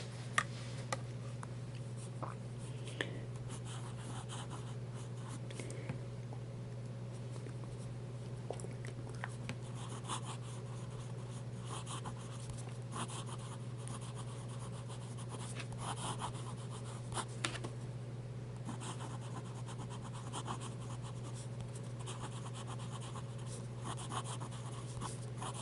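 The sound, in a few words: pen writing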